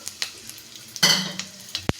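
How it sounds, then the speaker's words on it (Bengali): Whole garam masala of cinnamon, cardamom and cloves sizzles as it hits hot mustard oil in a kadai, a sharp burst of frying that fades away, with light utensil clinks and taps before and after. "তেলটা গরম হয়ে গেছে, আমি গোটা গরম মশলা দিয়ে দেবো"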